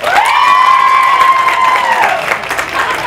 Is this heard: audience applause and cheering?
yes